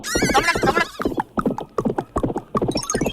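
A horse whinnies loudly in a long quavering call, followed by a rhythmic run of hoof clip-clops, close and alone with no talk.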